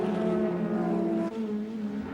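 Ford Sierra touring cars race flat out at Lakeside in 1989, a loud, steady engine drone with sustained harmonic whine and a brief shift in pitch partway through.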